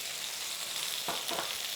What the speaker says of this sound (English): We're going to get our paste in and we're just going to fry this off.